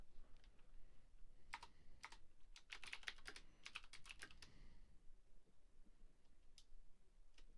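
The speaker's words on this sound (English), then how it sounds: "So I'll try typing for a few minutes and then chatting again." Typing on a computer keyboard at a writing desk, bursts of quick close clicks clustered in the middle of the stretch, with sparse isolated keystrokes before and after over a steady low room hum; no one talks.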